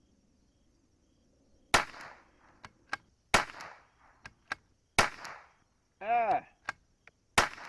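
Sharp gunshots from an SK semi-automatic rifle at an outdoor shooting range, five loud cracks spaced a second or more apart with short echoes, and a brief voice calling out between shots.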